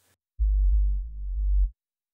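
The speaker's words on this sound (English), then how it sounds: "we're replacing it with a more consistent sine wave" Pure low sine sub oscillator from a Serum synth patch, a steady deep tone held for about a second and a half with slight level dips, alone and fairly loud.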